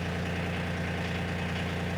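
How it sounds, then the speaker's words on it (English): A Kioti CK 2620 cab tractor engine idling steadily nearby, a constant low diesel drone with a fine even vibration and no change in pitch or load throughout. "And now we just have to start the tractor up and extend it some"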